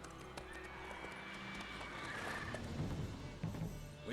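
Roach, the horse in The Witcher 3, neighs and clip-clops at moderate distance, a whinny layered over hoofbeats and light ambient game noise, with no clear speech.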